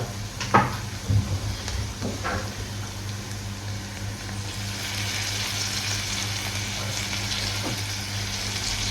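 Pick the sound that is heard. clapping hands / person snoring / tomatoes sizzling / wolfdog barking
tomatoes sizzling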